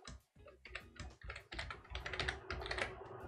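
Fingers tap out a password on a computer keyboard, a quick irregular run of close, crisp keystrokes with no talking over it.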